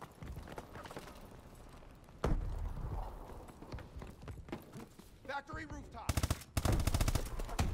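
Submachine gun fire in Advanced Warfare on the Atlas Gorge map, with bursts of shots growing louder and denser toward the end, mixed with game noise and a talking voice.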